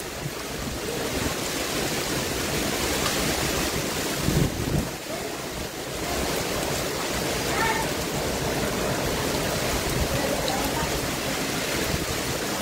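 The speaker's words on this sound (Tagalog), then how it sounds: "Grabe lakas ng hangin" Strong storm wind roars without pause in Bacolod, a loud, dense rushing blast buffeting the microphone for the whole stretch, with a brief dip midway.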